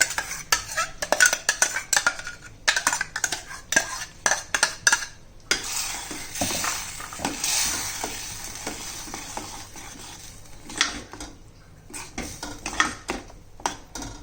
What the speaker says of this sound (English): Then add this pureed spinach into this.